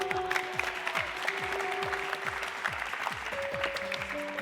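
Studio audience applauds a child puppeteer on an Indonesian TV variety show: a steady wash of clapping for the whole stretch, with tonal music-like lines and sweeping effects running over it.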